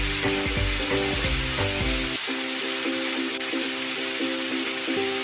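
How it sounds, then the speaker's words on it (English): Steady, dense sizzling of chicken in its second frying in hot oil, continuous throughout, with music playing underneath. "add the chicken for second frying"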